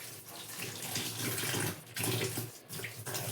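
Water splashes and sloshes steadily while laundry is washed by hand, soaked garments being worked in a basin, close and fairly quiet with short breaks in the flow.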